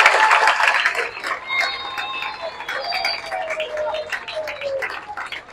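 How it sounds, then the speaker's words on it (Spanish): Audience applause at a school science fair, a dense wash of clapping that carries steadily through the whole stretch, with whistles and scattered voices mixed in. "yo quiero que ustedes me acompañen a darles un fuerte aplauso"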